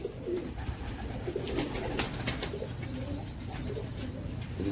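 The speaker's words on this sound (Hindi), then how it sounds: "सियालकोटी कबूतर" Sialkoti pigeons coo softly in low, rolling murmurs, repeated throughout over a steady background hum with light rustling and scratching.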